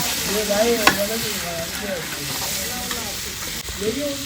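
Onions sizzle and fry in a pan for a traditional wedding feast, with a steady loud hiss broken by scraping stirs and a sharp clank, while voices talk faintly underneath.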